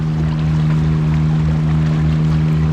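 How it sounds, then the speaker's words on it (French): A speedboat motors on open water off a Thai island, heard as a steady low engine drone with pulsing throb under broadband wash and splash, continuous and fairly loud with no talk. "Le speedboat est juste là-bas. Il a fait demi-tour."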